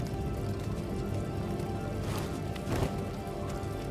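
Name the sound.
rain in the video game Star Wars Jedi: Fallen Order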